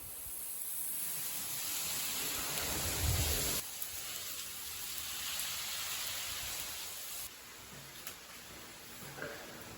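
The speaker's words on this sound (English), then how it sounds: "the winds and rain began to build" Steady typhoon rain hisses loudly with a broad wash of wind noise on an island in Japan, shifting abruptly in intensity a couple of times, no voices.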